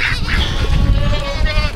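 Ducks crowd a feeding spot where they are hand-fed, giving loud, overlapping honks and quacks over steady, noisy background bustle that stays close and continuous.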